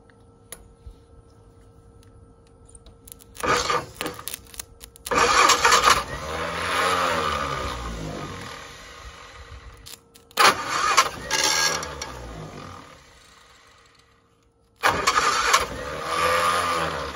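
A 1960 Onan engine, long unused, cranks and fires in three loud bursts, sputtering and running briefly before stopping each time, with quiet pauses between attempts.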